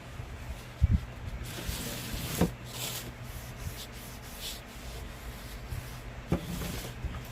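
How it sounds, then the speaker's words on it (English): A clean rag is wiped across a tray to clear off dust and dirt, producing soft, quiet rubbing strokes with a few faint knocks and handling bumps, close and without speech. "I'm going to wipe it with a clean cloth"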